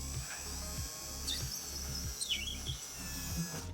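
An electric drill bores a hole with an oversized bit during a production studio build, its motor whirring steadily and pulsing in short bursts under a faint chirping squeal, with no talk.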